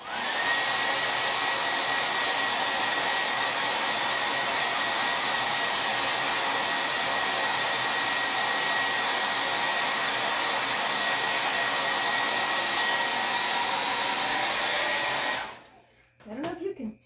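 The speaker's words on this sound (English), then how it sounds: "A little bit blow drying." A hair dryer blows steadily and loudly at close range, drying a T-shirt transfer for about fifteen seconds before cutting off abruptly near the end.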